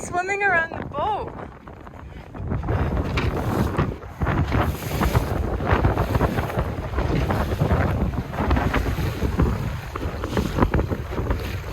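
Small wooden boat out on the water off Baja, with steady broadband wind buffeting the microphone and a loud running rumble throughout; voices speak over it and a whistle-like tone sounds briefly near the start.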